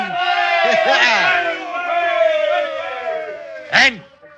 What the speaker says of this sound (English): Give a cheer, lads.